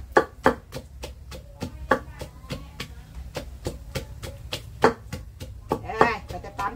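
Ingredients for a salted braised carp dish pounded in a mortar with a pestle: a steady series of sharp, close thuds at an uneven rhythm, with someone talking softly beneath and between the strikes.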